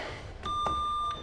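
An electronic quiz buzzer beeps as a player buzzes in at a Bible Bowl quiz, a bright sustained tone lasting about half a second, clear and close with no talk over it.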